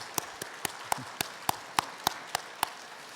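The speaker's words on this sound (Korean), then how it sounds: "박수로 뜨겁게 맞아주시면 감사하겠습니다" A church congregation claps during a Sunday service to welcome newly appointed ministers. Around a dozen distinct claps land at a fairly steady pace over soft, sparse background clapping, with no voices.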